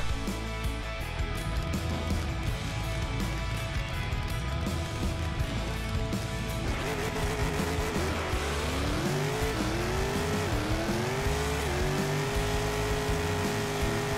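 A pro modified drag car making a run in the Bounty Drag Racing video game. A loud, steady engine roar builds, then gear shifts and rising revs sweep upward in stages as the car accelerates, with no voices.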